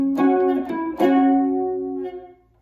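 A riff is picked on a three-string guitar: several plucked notes in quick succession, then a longer note left to ring and fade, close-up and alone.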